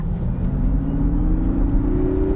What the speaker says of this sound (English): In Sport mode there is something that I hate, and I looked everywhere, I couldn't change that. There's a motor sound.